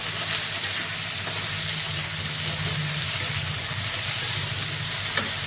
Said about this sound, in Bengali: আর আলুটা একটু ভেজে নিই